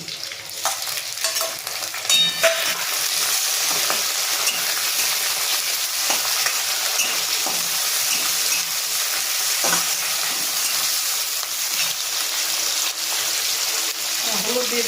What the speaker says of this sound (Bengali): এর মধ্যে আমি চিংড়ি মাছগুলো দিয়ে দিচ্ছি।